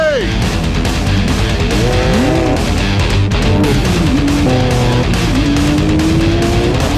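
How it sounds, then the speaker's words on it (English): Porsche and Ferrari supercars roar off the start line together, with loud, close engine revving, tire squeal and rising gear whines. Shouting and commentary run over the engines. "Porsche hooks up first."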